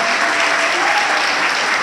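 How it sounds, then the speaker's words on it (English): An audience at a community awards night in Pleasant Hill applauds the executive director with a dense, loud, steady wash of clapping. "give her a big round of applause there"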